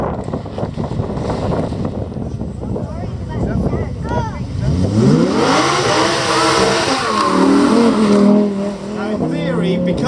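An 1100 bhp quad bike accelerates up a hill climb. Its engine note rises and revs hard about halfway through, nearby and loud, over wind buffeting, with muffled talk before it.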